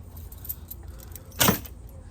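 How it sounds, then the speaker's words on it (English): A bunch of keys jangles once in a brief, bright metallic burst in a garage where a 5.0 engine is being installed, following a stretch of low background hum. "these keys are bothering me"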